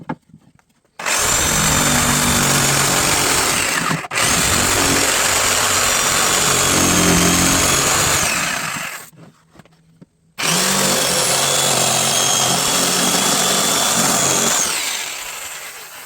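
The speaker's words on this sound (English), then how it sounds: "My bandsaw is down right now, so we're going to do this with a jigsaw" A jigsaw cuts through wood in three long, loud, steady bursts, with brief pauses between the passes and the motor winding down at the end.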